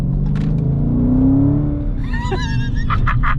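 A 1970 Dodge Dart Swinger 340 V8 accelerates from inside the car, its engine rising in a deep, loud rumbling rev and then easing off, with brief chirpy squeaks near the end.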